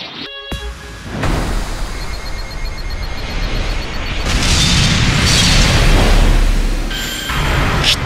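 An explosion in the Dragon Ball Legends video game goes off as a heavy boom, followed by a long rumbling blast that swells and then fades, with sharp game effects at the start and end.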